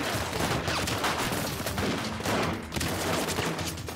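Dense gunfire from a war-film battle scene: continuous loud volleys of rifle and machine-gun shots, with almost no pause across the whole stretch.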